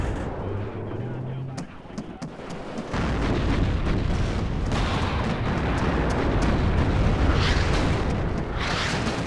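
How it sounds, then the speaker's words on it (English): Artillery barrages and explosions in the Cold War strategy game Warno: a few sharp reports early on, then a dense, continuous roar of heavy booming impacts that holds loud to the end, with someone talking over it. "And there comes the artillery."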